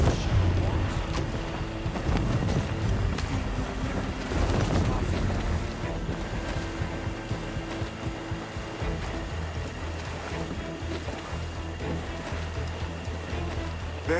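Sailing ship under way at sea in Assassin's Creed Black Flag, with a steady wash of wind and waves and creaking hull noise filling the whole stretch, loud and continuous.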